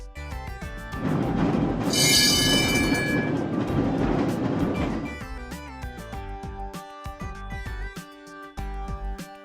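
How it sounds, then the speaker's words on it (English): A streetcar rumbles past over rails, rising to a loud, dense roar with a high metallic squeal near the peak, then fading back under music. "Streetcar."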